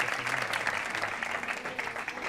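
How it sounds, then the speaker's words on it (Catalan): Studio audience applause for contestant Clara on the Catalan TV word game Picalletres, a brisk, even patter of many hands clapping at moderate loudness with no voice over it. "Un aplaudiment, Clara, ho has fet molt bé"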